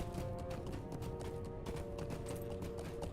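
Horse hooves clip-clop at a steady gallop in the fantasy video game LOTRO, a continuous rapid patter with a constant game soundscape underneath and no speech.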